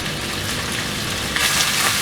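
Chicken pieces fry in oil over a high flame for a chicken handi, giving a loud, steady, close-up sizzle that crackles on without a break.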